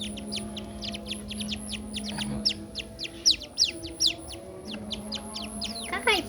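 Many high, thin chirping peeps from whistling duck ducklings, repeating rapidly and overlapping close by in a small cage, with a steady low hum underneath.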